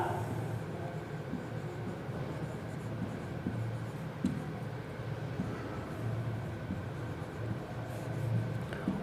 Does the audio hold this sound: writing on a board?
yes